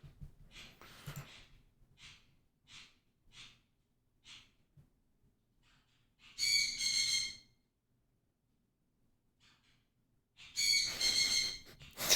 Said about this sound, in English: That bird sounds really upset